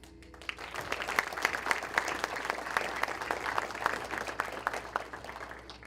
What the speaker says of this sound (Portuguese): Me ajude a receber com a salva de palmas o apóstolo Teté